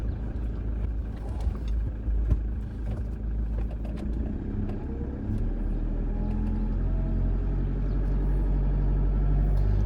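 A car crawls slowly along the rough, rocky Bruinkrans off-road track near Gifberg, its engine a steady low rumble that builds slightly toward the end, with occasional knocks and scrapes from the uneven ground.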